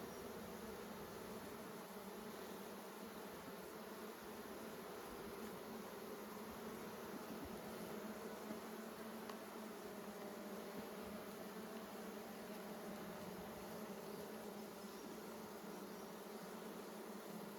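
Bees buzz steadily around nucleus hives in good conditions at Nymboida, making a continuous, dense drone of many insects close by with no talk.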